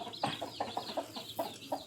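Soft-feathered chickens penned together cluck in a quick series of short, close, bright calls with a few louder peaks, heard alone over a quiet farm background.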